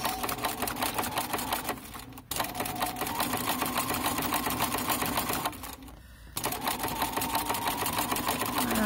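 Domestic sewing machine whirring continuously as it stitches a jelly roll rug made from coiled fabric strips, with two brief pauses, close and fairly loud with no speech.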